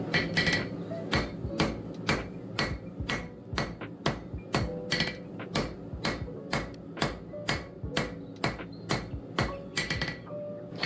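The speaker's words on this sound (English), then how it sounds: "we're again going to use our chisel to accentuate some more of the marks for the leaf" Repeated hammer blows drive a chisel into hot metal while texturing a hand-forged leaf, sharp ringing strikes landing in a steady, even rhythm for the whole stretch, close and loud with no talking.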